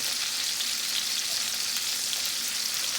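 Lamb loin chops frying in a pan, a dense, loud, continuous sizzle that holds steady throughout without any voices.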